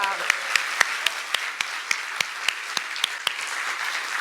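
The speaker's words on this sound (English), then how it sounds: "big round of applause" An audience at the Droidcon Italy 2023 conference opening claps together in an even, regular rhythm over a bed of crowd noise, a short burst of sharp, evenly spaced claps.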